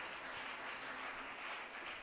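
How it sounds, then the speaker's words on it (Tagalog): A church congregation claps for the Lord during a worship service, a dense, continuous wash of many hands at an even level for a couple of seconds. "Palakpakan natin ang ating pinakamamahal na Panginoon."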